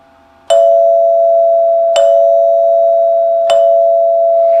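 A NuTone 8-note Westminster bar chime rings for the rear door: three loud, evenly spaced strikes, each hitting two tone bars together, with a bright attack and a long, sustained ringing tone between strikes.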